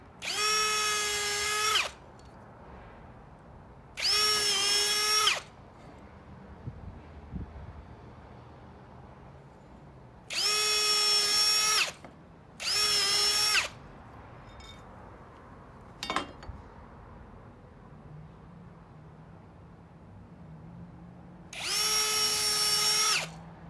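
A power drill drives screws into a plastic decking joist in five separate bursts of a few seconds each, loud and close, with quiet gaps between them and no talk.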